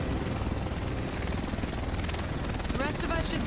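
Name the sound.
helicopter arriving in video game The Division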